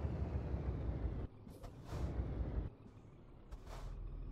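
Air brakes on a truck in a driving game let out several sharp hissing bursts over a steady low engine rumble, fairly close and without any talk.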